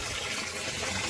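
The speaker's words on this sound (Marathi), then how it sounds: "डायरेक्ट इथे पाईप लावून आपण आता इथे पाणी भरलेलं आहे हंड्यामध्ये." Spring water runs from a pipe into a metal water pot at a hillside spring on a Ratnagiri trek, a steady close broadband gush with no break and no voices.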